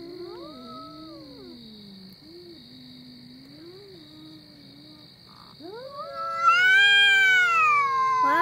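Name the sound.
cat yowling, ready to fight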